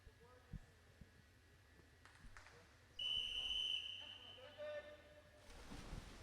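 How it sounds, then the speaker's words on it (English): A single sharp, steady whistle blast lasting under a second starts a boys' 100 backstroke race at a high school swim meet. It rings out over the quiet, echoing hum of an indoor pool. "There's the whistle."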